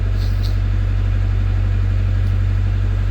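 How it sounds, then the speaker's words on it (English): Narrowboat diesel engine idling on a canal, a loud, steady low chugging drone with a fast even pulse, close by and continuous, with nothing else standing out. "As long as it's not causing any undue stress on the engine"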